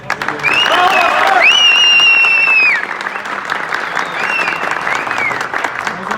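A crowd applauds the mayor at a Nevşehir opening ceremony, loud dense clapping with a few high whistles cutting through early on, then easing slightly but continuing steadily to the end.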